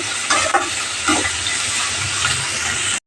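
Fresh coriander fries in hot oil for sambar, giving a steady, loud sizzling hiss that cuts off abruptly at the end.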